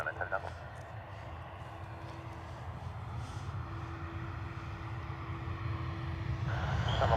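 An airliner takes off from runway 10 right at Dublin Airport, its distant engine roar building steadily louder toward the end, under a thin steady tone and intermittent voices.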